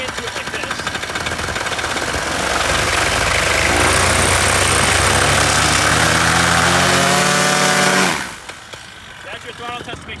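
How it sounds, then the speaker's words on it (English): A warmed-up paramotor engine revs hard on the ground during a prop throttle test before takeoff. It is loud and near, climbing to a sustained high-power roar, then cutting back sharply to a low idle near the end. "Throttle test to make sure that you're actually going to have full power prior to takeoff."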